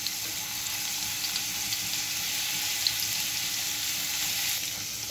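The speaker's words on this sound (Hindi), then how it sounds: "इसको जस्ट सोते करेंगे, इसका कलर डार्क नहीं करेंगे" Garlic sautéing in a pan for tandoori chicken pasta makes a steady, close sizzle and fry that holds at an even level throughout, with a few faint clicks and no talking.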